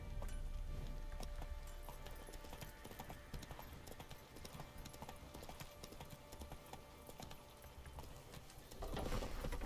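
Hooves of Roach, Geralt's horse in Witcher 3, in a steady galloping clip-clop rhythm, close and continuous at low volume, with no talking.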